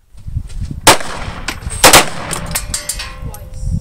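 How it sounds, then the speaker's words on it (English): Gunshots fired in turns on a firing range, two loud sharp reports standing out over a steady outdoor background with smaller pops between them. "Fire."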